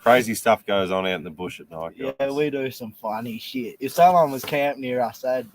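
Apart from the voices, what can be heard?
No distinct noise like a dog, phone or traffic.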